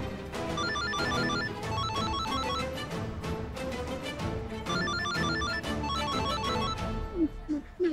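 A ringing phone in a Hindi TV comedy scene about a bomb wired to a woman's hand, repeated tonal bursts over busy, dense background sound and music throughout.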